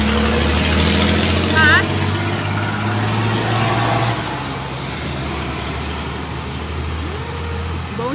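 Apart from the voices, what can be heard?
busy road traffic with trucks and cars passing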